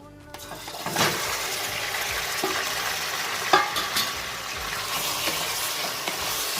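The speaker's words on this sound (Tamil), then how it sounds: "இந்த எண்ணெயை வேஸ்ட் பண்ணாமல் சிக்கன் அதில் பொரிக்க போகிறோம்." A steady hiss of chicken frying in hot oil, with occasional clinks and stirring sounds over the sizzle.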